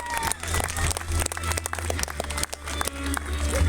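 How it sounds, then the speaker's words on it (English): Audience at a wildlife theater show clapping together, a dense patter of many hands that holds steady for several seconds at moderate distance, with no talk over it. "Let's give her a round of applause"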